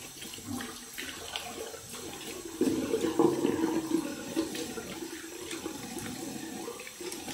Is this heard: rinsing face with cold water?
yes